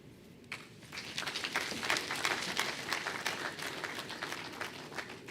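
Sustained audience applause at a public presentation on a 2023 appropriation act, many hands clapping in a steady dense patter from a moderately distant crowd, with no talk over it.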